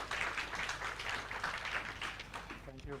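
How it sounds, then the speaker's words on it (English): An audience at a Rivonia Trial 60th anniversary event at Lilliesleaf Farm Museum applauds in a steady wash of clapping that fades toward the end, where a brief voice cuts in. "Let's give him a round of applause"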